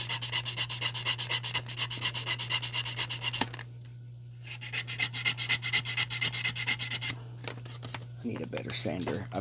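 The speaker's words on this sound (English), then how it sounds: "I'm just going to sand." Hand sanding of a small scale model part, rhythmic scratchy back-and-forth rubbing strokes with a brief pause midway, then more rubbing as a voice starts talking near the end.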